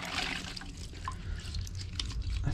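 Paint spray respirator mask rinsed under clean water, a soft trickling and splashing with small drips and squishes, close and fairly quiet.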